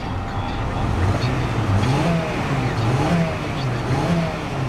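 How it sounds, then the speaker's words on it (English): A 2007 Honda Civic EX sedan's VTEC engine hums steadily, its pitch rising and falling in gentle revs over a continuous smooth idle, close and fairly loud throughout. "Revs up nicely, it idles smoothly"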